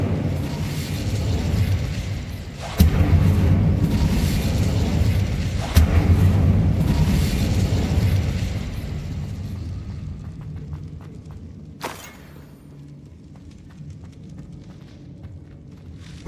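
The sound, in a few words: Incendio fire spell in Hogwarts Legacy video game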